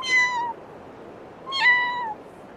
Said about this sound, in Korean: 고양이다.